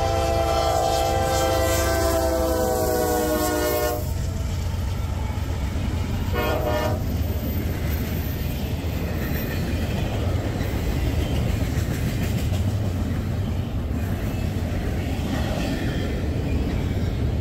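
A CSX intermodal freight train passes close by, sounding its horn in a loud tonal blast for the first few seconds before giving way to a steady, heavy rumble of rolling cars with no talk.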